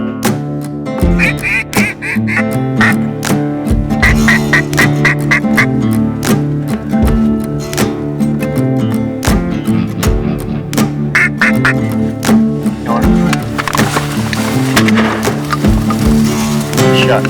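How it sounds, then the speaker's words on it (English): Mallard ducks quack repeatedly in short bursts from a field setting during a hunt, calls overlapping steadily throughout with a dense, busy texture and no talk. "Hopefully these mallard ducks will move right towards probably 4:30."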